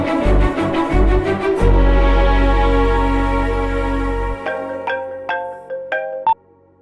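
An electronic ringtone plays loudly with a melodic tone pattern, then switches to short repeated beeps before cutting off abruptly.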